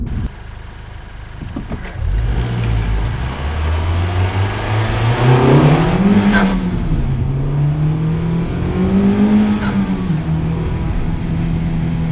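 A 2018 Honda Civic Type R engine pulls hard on the highway, its rising and falling drone swelling through gear-like sweeps over steady road and wind noise, loud and close throughout.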